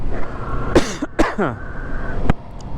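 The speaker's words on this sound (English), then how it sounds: "I have to cough, so cover your ears." A few sharp coughs close to the mic, followed by a throat-clearing sound and a brief click, over low background hum.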